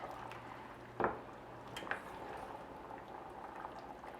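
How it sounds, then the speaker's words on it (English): A pot of salted codfish with chickpeas, peppers and tomatoes simmers steadily with a soft, continuous bubbling, broken by one brief clink near the start; no one speaks. "now we let this simmer until the codfish is cooked"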